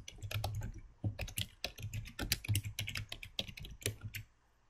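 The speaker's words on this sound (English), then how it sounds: "we're going to type new money account" Rapid, uneven bursts of clicking keystrokes on a computer keyboard, close and fairly quiet, trailing off at the end.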